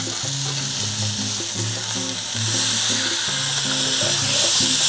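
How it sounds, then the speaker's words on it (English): Steak sears in a hot pan right after being flipped, giving a loud, steady crackling sizzle that swells slightly midway, with a faint low rhythmic music bed running underneath and no talking. "we're gonna flip our steak now"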